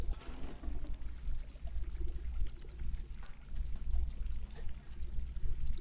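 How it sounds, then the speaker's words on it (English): Water runs steadily in the video game Stray, a continuous rushing pour with a low rumbling undertone, even and unbroken throughout. "we do hear water running"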